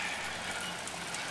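Light rain falls at night, a soft, steady broadband patter that holds evenly through the short moment with no voices.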